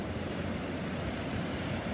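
Ocean waves break on a beach in North Naples, Florida, in a steady broad wash of surf with wind buffeting the microphone, close and continuous.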